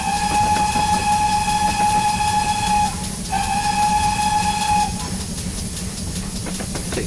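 Locomotive running in Train Simulator 2015, a steady rail rumble and hiss with a long sustained whistle blast that breaks briefly and resumes, loud and close throughout.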